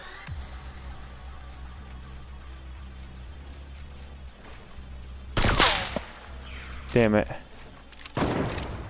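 Gunfire in a shooter video game, sharp loud shots bursting near the middle and end with a rapid burst between, over a low background hum, with a brief muttered voice.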